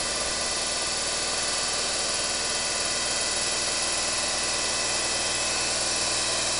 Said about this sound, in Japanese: 何かこの目の前の EF がね、このエンジン音のようなものを出しておりますけども